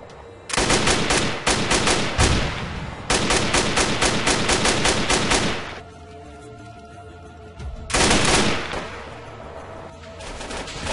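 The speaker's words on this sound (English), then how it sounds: "the AK-12, which can use a standard optic due to its railed receiver, has a 650 RPM full auto and a 1000 RPM burst fire mode" AK-12 rifle firing in ARMA 3, long full-auto bursts of rapid, loud, close shots at 650 rounds per minute, separated by pauses with ringing tails, then a shorter quick burst-fire volley.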